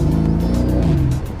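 Lamborghini Urus engine loud and close, with a steady harmonic drone that bends in pitch as it shifts, over rough crackling texture and brief bursts, easing slightly at the end.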